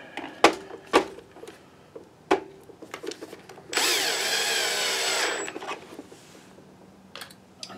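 A power screwdriver backs screws out of an InFocus IN119HDx projector, one loud whirring burst of about a second and a half, preceded and followed by sharp clicks and handling knocks.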